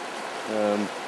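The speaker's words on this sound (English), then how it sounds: "every single bit of that rain is now coming straight past us. Well, that's really a flash flood." Broad, steady roar of flash floodwater rushing down a valley in Kenya, with a brief voice rising over it midway.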